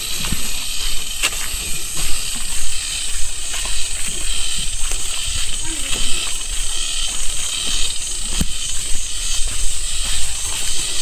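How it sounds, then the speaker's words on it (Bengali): Crickets chirp along a hill path at Kala Pahad in Moulvibazar, a constant high, shrill trilling that fills the background with scattered clicks and movement nearby. "জাস্ট ঝিঝি পোকার শব্দগুলো শোনেন।"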